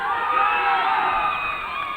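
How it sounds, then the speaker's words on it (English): Youth football crowd at a Scotland versus Republic of Ireland Victory Shield match erupts in excited cheers and whoops, a sustained bright roar of many voices heard from a distance. "Oh, the fans in the crowd got awfully excited"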